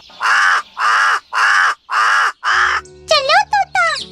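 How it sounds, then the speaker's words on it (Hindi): A crow in an animated horror story gives five loud, evenly spaced harsh caws, followed by a short burst of a higher, quicker animated bird call. "कालू कौवा आवाज लगाकर हमें बुला रहा है"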